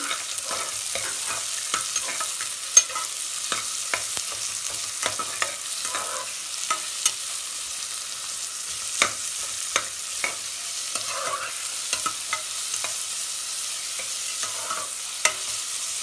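Onions fry in hot oil in a pan at home while a spoon stirs them, a steady close sizzle and hiss running throughout, broken by light scraping clicks against the pan and no talk.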